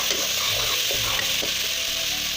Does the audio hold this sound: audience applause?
no